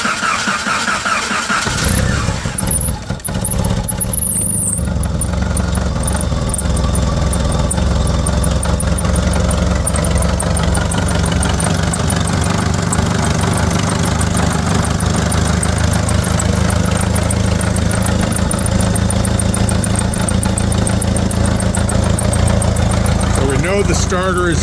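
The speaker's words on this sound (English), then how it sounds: "So let's start up the rig. The key is on, and we'll fire it up here." A 1986 Jeep Comanche XLS engine cranks briefly on the starter, fires up and settles into a steady, loud idle with a continuous low rumble close by.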